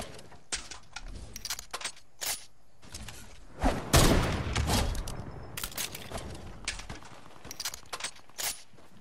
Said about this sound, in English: I just sniped him.